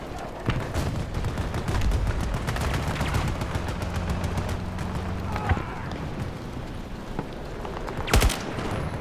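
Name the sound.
gunfire in Battlefield 2042 video game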